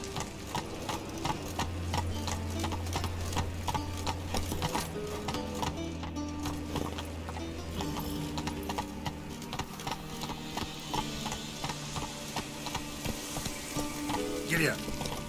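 The horse Roach gallops in The Witcher 3: Wild Hunt, a fast steady clatter of hoofbeats on ground running throughout, close and busy, with a voice speaking briefly over it and music underneath.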